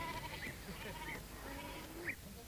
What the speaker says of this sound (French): Et toi là, Peter, monte tes chèvres au pâturage.